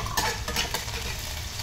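Garlic sizzles in hot oil in a pan on a single burner while a utensil stirs it, giving continuous frying crackle with a few scraping stir strokes, close and moderately loud.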